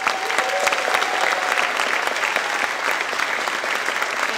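Sustained audience applause at a school district awards ceremony: dense, steady clapping from a large crowd that holds at an even level throughout.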